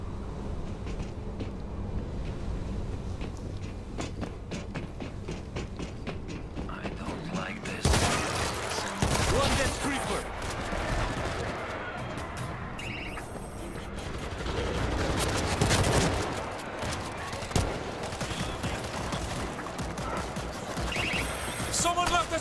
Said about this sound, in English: Someone left a surprise sentry gun!